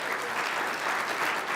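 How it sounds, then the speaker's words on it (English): An audience claps in a steady, dense round of applause at a church talk, filling the short moment without voices. "So if we could just get a round of applause."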